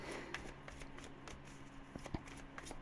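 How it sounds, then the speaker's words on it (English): A tarot card deck is shuffled three times, giving faint, soft papery riffles and light taps in a quiet room. "And I'm just going to do 3 shuffles."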